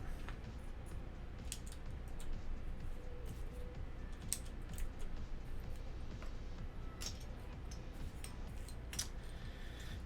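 Keys clack steadily on a custom mechanical keyboard build, a Gingham and a Space65. The quick irregular keystrokes run close and clear over a low background hum with no voices.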